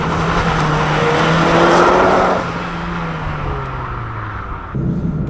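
A 2008 Dodge Caliber SRT-4, a turbocharged car with an aftermarket air intake, drives at speed. The engine drones loudly and steadily, then falls off as it shifts, and there is no talk.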